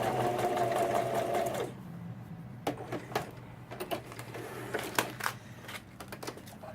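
A sewing machine stitches a paper shaker card, a fast whirring run at the start, then a pause and short bursts of stitching with clicks as it back-stitches, close and fairly quiet.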